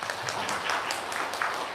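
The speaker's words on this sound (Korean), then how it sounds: "박수 한번 다시 한번" Audience applause fills a parents' college-admissions information session, with dense, steady clapping from a crowd and no voices over it.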